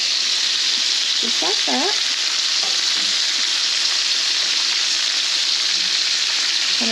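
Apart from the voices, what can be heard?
burgers flipped and frying in a pan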